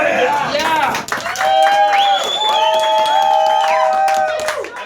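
A crowd celebrates at a political victory event for a cannabis decriminalization campaign in Toledo, with loud clapping mixed with whoops, cheers and excited voices close by.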